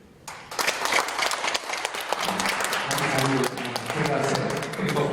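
Congregation at a Sunday church service breaking into loud, sustained applause that fills the room for several seconds, with a voice briefly audible beneath the clapping.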